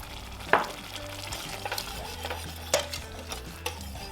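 Chicken stock sauce is whisked with a beater in a hot pan over high flame for a spicy turkey dish, with a soft sizzle beneath scattered metallic clinks and scraping strokes.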